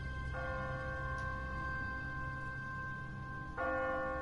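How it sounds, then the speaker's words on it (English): A church bell in the video game The Walking Dead rings with long, sustained tones, struck twice a few seconds apart, each ring humming steadily over a low background rumble. "What kind of church bell goes off at 20 past the hour?"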